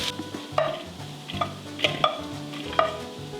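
Shredded BBQ chicken cooking in a pan, stirred with repeated scraping strokes over a low sizzle, a rhythmic series of close clinks and scrapes without voices.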